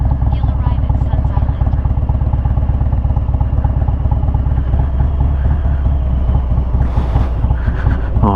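A 2020 Harley-Davidson Low Rider S rumbles along in second gear with the clutch feathered, a loud continuous low engine throb with wind buffeting, while a rider talks over it.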